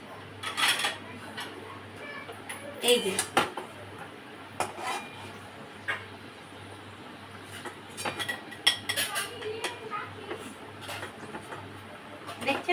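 Fried potatoes are lifted from a pan onto a plate, sparse metal and dish clinks and scrapes at irregular intervals in a quiet kitchen, close by, with a brief spoken word.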